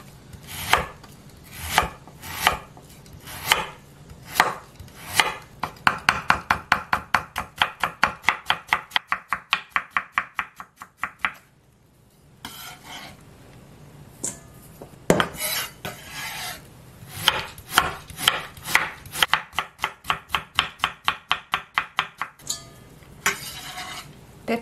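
A knife slices radish into thin pieces on a cutting board. Quick, even tapping strokes come in long bursts with short pauses between them, crisp and close, with no one speaking.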